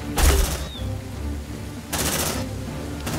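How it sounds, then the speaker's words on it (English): Sentry gun fire in the sci-fi video game Aliens: Dark Descent, a couple of sharp bursts of rapid gunfire separated by a lull, set over a steady low rumble of in-game ambience. "Deploying sentry gun."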